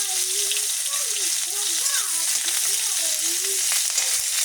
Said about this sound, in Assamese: এয়া মই পিঁয়াজ দি দিছোঁ।